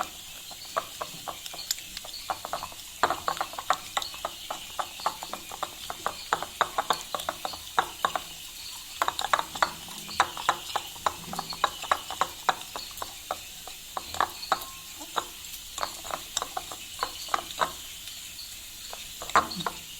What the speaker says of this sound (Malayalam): നല്ല രീതിയിൽ ഒന്ന് മിക്സ് ചെയ്തേക്കട്ടോ.